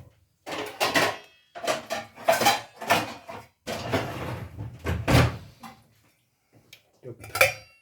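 A metal pot lid clatters onto a pan of water, a series of sharp clanks and knocks among other cookware handling, with someone speaking French between the sounds.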